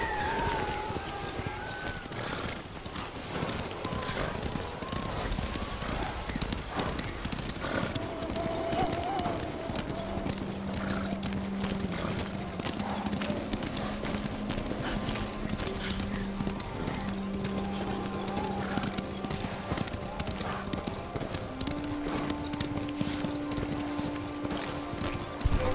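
Hooves clip-clop in a steady, brisk rhythm as horses are ridden in the game Ghost of Tsushima, continuous and close throughout, with voices talking over the hoofbeats.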